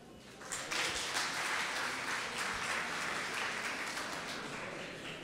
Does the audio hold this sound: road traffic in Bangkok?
no